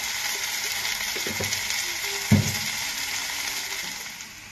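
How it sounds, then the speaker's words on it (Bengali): Potatoes fry in a pan with salt, a steady close sizzle with a couple of clinks and one louder knock midway as they are stirred, tapering off at the end, with no talk. "এবার আলুটাও দিয়ে দেবো, দিয়ে একসাথে আমি এগুলোকে ভাজবো।"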